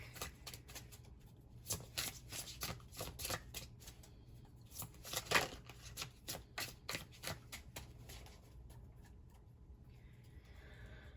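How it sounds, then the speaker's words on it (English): A rapid riffling of tarot cards, repeated in several quick bursts of crisp flutters, close up and without any talking. "Let me just shuffle up the cards really quick."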